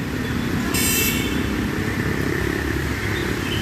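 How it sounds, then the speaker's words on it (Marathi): A vehicle approaching on a road near Patto, heard as a steady, loud engine and tyre rumble close by, with a brief brighter hiss partway through and no talk over it. "आतां फुडसून गाडी येता"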